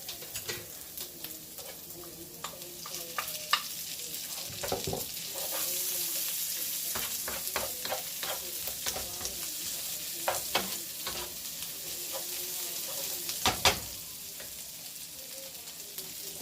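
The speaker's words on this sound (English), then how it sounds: "I'm going to add my onions." Onions fry in a pan for spaghetti carbonara, a steady close sizzle broken by repeated scraping and clacking stirs, with a few louder knocks near the end.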